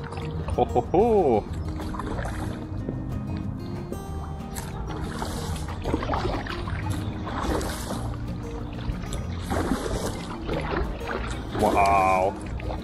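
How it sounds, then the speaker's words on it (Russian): Kayak paddle strokes dip and splash in the water in an uneven rhythm, with people talking and exclaiming nearby over a continuous wash of water; fish splash nearby. "давайте опробуем эту байдарку на воде"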